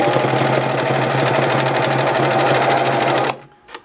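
A Singer Model 353 Genie sewing machine runs steadily through thick layers of fabric with a fast, even mechanical whir and needle rhythm, loud and close, then stops abruptly near the end.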